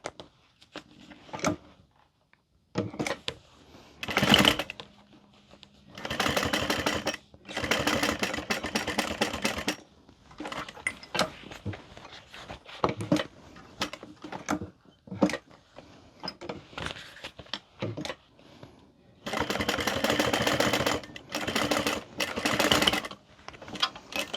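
A sewing machine top stitches a handbag, the Gabriella bag, running in repeated bursts of stitching separated by short pauses and handling clatter, close and fairly loud.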